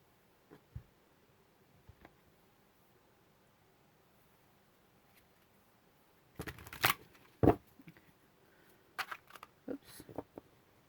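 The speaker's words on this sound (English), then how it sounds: "Having a hard time shuffling today." A tarot deck being shuffled by hand, with a couple of faint taps early on, then bursts of riffling and card slaps in quick clusters, close and fairly quiet against a hushed room.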